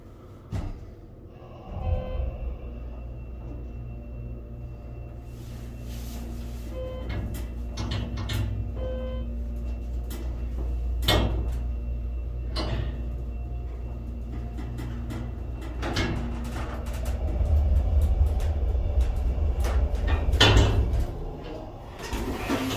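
Schindler 330A hydraulic elevator at a public library in Syosset, New York, running steadily with a low motor and pump hum, punctuated by clunks and thuds of doors and car movement, swelling louder near the end.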